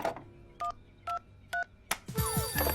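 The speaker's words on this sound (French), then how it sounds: "Je vais appeler les parents de Jamie." Tones of a telephone number being dialed in a cartoon: three short, evenly spaced beeps followed by a brief clatter and a ringing tone, fairly clear and close.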